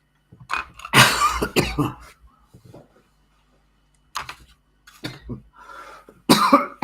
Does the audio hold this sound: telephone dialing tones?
no